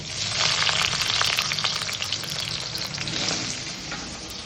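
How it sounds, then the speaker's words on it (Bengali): Loud, crackling sizzle of chopped onions hitting hot oil, continuous and close, with bursts of spattering throughout. "তেলটা খুব ভালো করে গরম হয়ে গেছে, পুরো পেঁয়াজটা আমি এর মধ্যে দিয়ে দিচ্ছি।"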